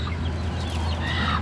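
A hen clucks softly outdoors in low, throaty murmurs over a steady background hum, close but not loud, with no voices.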